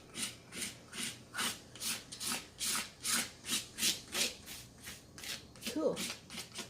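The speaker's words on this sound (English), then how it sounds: "take our palette knife and maybe we can scrape some other colors in" A palette knife scrapes paint across paper in a quick run of about a dozen rhythmic strokes, close and raspy.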